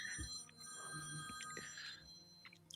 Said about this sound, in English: That old man phone ring.